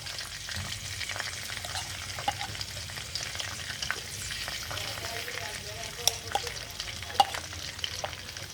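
Cardamom and bay leaves fry in oil with a spoonful of ghee for a Bengali dessert, making a continuous low sizzle with scraping stirs and a few sharp utensil clinks.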